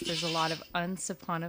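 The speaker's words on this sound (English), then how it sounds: "That's my phone, my goat phone." A goat-bleat ringtone rings on a phone during a soap-making session, giving repeated loud, wavering bleats in short bursts, with a voice speaking over part of it.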